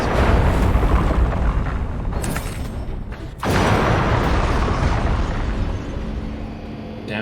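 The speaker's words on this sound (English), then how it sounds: "that explosion looks so nice" Heavy, continuous explosions and rumbling booms fill a battle in the video game Destroy All Humans, loud and dense with a brief dip midway before the roar resumes.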